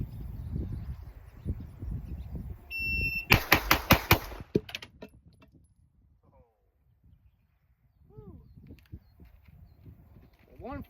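Rapid gunfire from guns at a shooting range, a tight burst of sharp close shots in the middle, with a few isolated reports and talk before and after.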